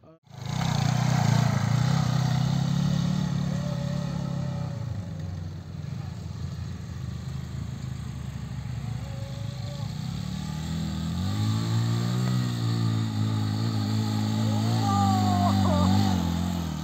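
Motorcycles of stunt riders on an outdoor trail, engines droning steadily and revving up as they pass by fairly close, loud for the whole stretch with brief shifts in pitch.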